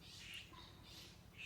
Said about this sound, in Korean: 새들이 짹짹짹짹 거리고 있어요.